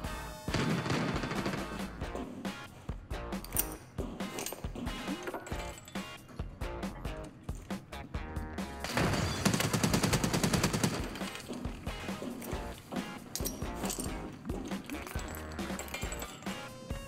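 Rapid automatic gunfire from Arena Breakout Infinite rattles in dense, continuous bursts over roughly seventeen seconds, loud and close, with a brief swell of heavier firing near the middle.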